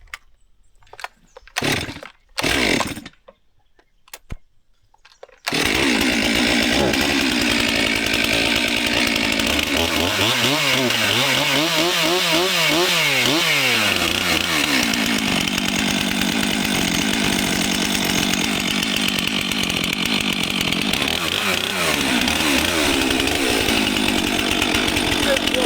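A Stihl or Husqvarna chainsaw is pulled a few times, then fires and runs loudly and close, revving up and settling back to a steady roar; someone talks briefly before it starts.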